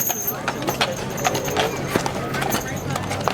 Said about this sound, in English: Stepping up now, this is the first of our wheel horses today.